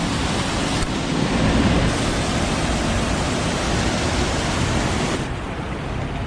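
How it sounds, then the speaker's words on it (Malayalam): A small waterfall of cold hill-stream water rushes and splashes in a loud, continuous roar close by, with no other sounds over it. "ഓ, ഇവിടത്തേക്കാണ് വെള്ളം വീഴുന്നത്."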